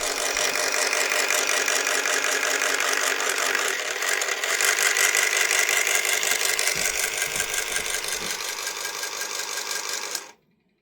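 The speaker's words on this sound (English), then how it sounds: "this has got a little DC can motor. Right now its rubber band is too loose" A model train accessory driven by a small DC can motor with a loose rubber band makes a loud, fast mechanical rattling and clicking whir that runs steadily close by, then cuts off abruptly near the end, with no talking.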